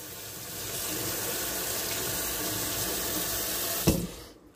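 A fork rinsed under running kitchen tap water, a steady close hissing splash that ends abruptly with a brief clink as the tap shuts off.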